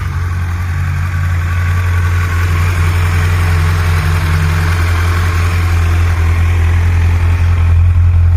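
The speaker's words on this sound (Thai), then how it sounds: "เดี๋ยวมาฟังเสียง สตาร์ทเครื่องฟัง แชะเดียวติดไม่มีบิดช่วยนะครับ" A 2020 Kawasaki Z900 Special motorcycle with low mileage idles steadily up close, a loud, even engine rumble with no pauses.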